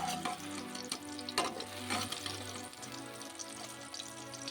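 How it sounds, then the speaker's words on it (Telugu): Brinjal pieces fry in a pan until reddish and crisp, giving a steady sizzle with occasional spoon-and-pan knocks, loud and close, over a sustained tonal background hum. "వంకాయ ముక్కలు ఇలా ఎర్రగా వచ్చేలాగా దోరగా వేపుకుంటే బాగుంటాయి"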